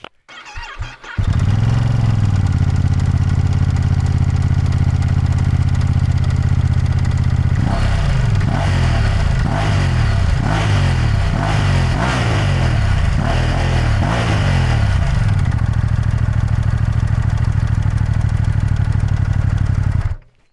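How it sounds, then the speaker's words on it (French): A Ducati Multistrada V2S V-twin motorcycle engine starts, settles into a deep, lumpy idle, then revs in several sharp bursts before dropping back to a steady idle, close and loud. "il a quand même un petit bruit sourd au ralenti qui est assez sympa"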